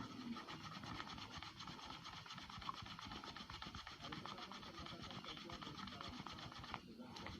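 Rubbing the warangka (keris sheath) of aged timo wood gives a faint, steady, close-up rasping that scrubs on without pause throughout.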